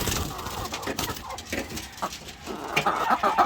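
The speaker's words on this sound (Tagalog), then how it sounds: "maririnig nyo naman, kumakakak na yung mga inahing manok natin" White Leghorn x Black Australorp crossbreed laying hens cackle and cluck continuously in a coop. The calls are close and layered over steady farmyard background, with no speech.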